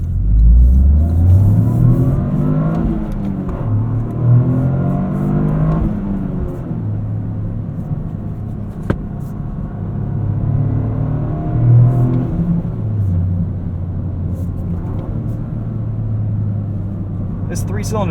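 Turbocharged three-cylinder engine of a 2023 Toyota GR Corolla accelerating on the street, heard from inside the cabin, with a steady low drone that rises and falls through several gear pulls across the run.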